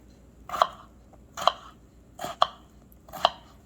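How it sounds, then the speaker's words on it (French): A knife chops potatoes into small cubes on a board for Mauritian samosa filling, four distinct, evenly spaced thuds sounding close and clear with no talk. "Pour mon pommes de terre, je vais couper ça mince avant et après nous pouvons faire comme un petit cubes."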